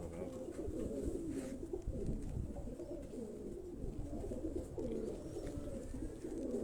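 Pigeons on a rooftop loft in Karachi coo in a steady, low, overlapping murmur that runs throughout, close by and fairly soft, with no talking.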